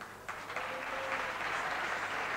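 A theatre audience bursts into applause, a dense, steady clapping that swells quickly and holds at a lively level.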